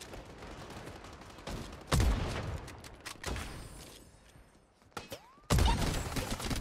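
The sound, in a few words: sniper rifle shots in the video game Strinova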